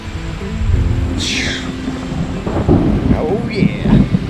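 Pouring rain hisses steadily while low thunder rumbles through, with a few faint chirps and bird-like sounds over the downpour.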